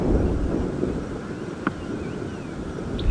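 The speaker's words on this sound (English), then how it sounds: "it is just because it is so windy today" Steady wind buffeting outdoors at Djuma Game Reserve on a safari drive, with low rumbling gusts, a faint bird call and a brief knock partway through.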